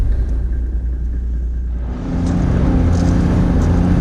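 High-range four-wheel-drive vehicle crawling through soft grey sand, a loud steady engine rumble from inside the cab that deepens and grows slightly louder as the revs rise partway through, with no talk.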